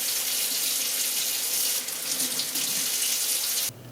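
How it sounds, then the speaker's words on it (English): Tap water runs steadily into a sink while a polished seax knife blade is hand washed with regular dish soap, a close, continuous splashing hiss that cuts off abruptly near the end. "we go ahead and start hand washing it with just some regular dish soap"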